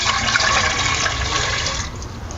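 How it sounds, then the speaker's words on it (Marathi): Water gushes and splashes steadily from a small pot into a steaming vessel for dhokla, a loud continuous pour that tapers off toward the end. "एक तांब्यावर आहे ना आपल्याला ह्यामध्ये पाणी घालायचं"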